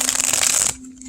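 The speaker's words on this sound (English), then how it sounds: "look at that shuffle." A deck of oracle cards riffles briefly in a quick, close, crisp shuffle that stops abruptly, with no talking.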